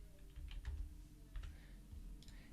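Faint, soft computer keyboard taps and clicks in a few scattered short bursts, quiet and close over low background hum, while copying and pasting address details into a web form.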